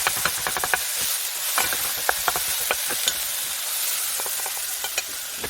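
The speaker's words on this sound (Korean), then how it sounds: "나무주걱 넓은 면으로 먼저 눌러주면서 볶다가" Minced meat stir-fried in a pan and pressed and broken up with a wooden spatula, a steady close sizzle with repeated sharp scraping and tapping strokes throughout.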